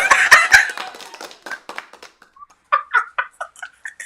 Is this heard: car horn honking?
no